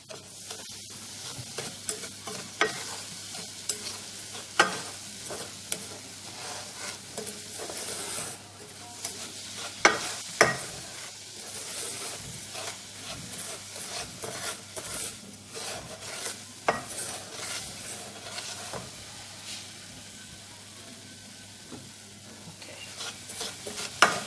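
Sugar is stirred in a pan as it melts and browns for a Ghanaian caramelized corn drink. A spoon scrapes steadily against the pan over a soft, continuous sizzle, with no talking.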